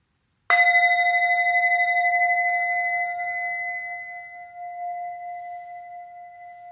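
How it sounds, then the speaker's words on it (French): A meditation bell struck once to close a practice session, ringing out clearly and alone, then sustaining a long, slowly fading tone with steady overtones. "jusqu'au son de la cloche qui marquera la fin de cette pratique."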